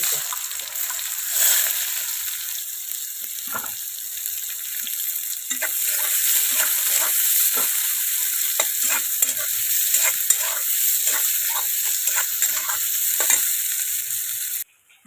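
Cumin, mustard seeds and chopped onion sizzle loudly in a pan while being stirred, with a continuous frying hiss, scraping and sloshing strokes, ending abruptly.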